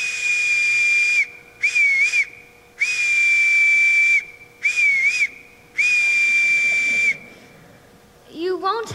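A whistle is blown as a household call signal, five sustained shrill blasts, several with a warbling trill, separated by short pauses in a room, followed by a brief voice.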